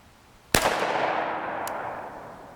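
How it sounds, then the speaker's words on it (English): A single sharp gunshot from a PS90 SBR firing a 43-grain 5.7x28mm copper solid round into ballistic gel, loud and close, followed by a long fading echo with a faint click after. "now we have the Ps90 Sbr. We'll take our gel shot and go check out what we did."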